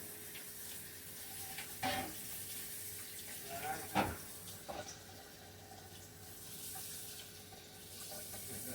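Tap water runs faintly while a cutting board is washed in a kitchen sink, a steady low hiss broken by a few louder splashes and knocks of the board.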